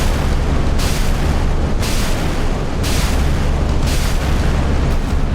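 A 76 mm naval gun on a frigate fires rapidly in the naval combat game Sea Power, loud booming shots repeating about once a second over a constant roaring wash of battle noise.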